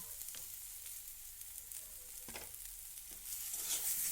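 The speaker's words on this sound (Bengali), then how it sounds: "এবার সব সবজিগুলোকে লবণ দিয়ে একবার ভালো করে ভেজে নেব।" Vegetables with drumstick flowers, salt and turmeric sizzle steadily in a pan for a Bengali chorchori, with a few brief scrapes of stirring, and the frying grows slightly louder near the end.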